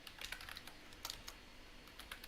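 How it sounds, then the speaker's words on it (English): Quiet, steady typing on a computer keyboard sounds close by, a fast patter of soft key clicks with no speech over it. "you get to hear me typing."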